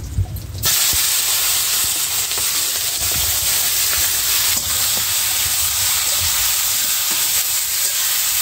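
Chicken pieces hit hot oil with cumin in a wok, producing a loud, continuous hissing sizzle that holds steady from start to finish, with no voices over it.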